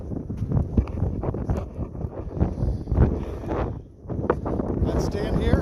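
Strong outdoor wind buffets the microphone with a continuous loud roar and rumbling gusts that rise and dip, briefly easing near the end before surging again; no clear talking is heard.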